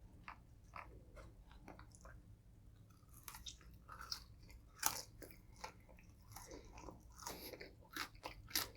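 Close, crisp crunching and biting while someone eats Cajun fries dipped in mashed potatoes, with irregular bites and chewing throughout and no talking.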